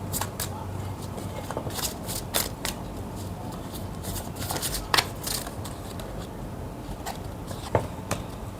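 Tarot cards are shuffled by hand, giving a soft, continuous papery riffle with a few sharper snaps and clicks, close and quiet, with no talking.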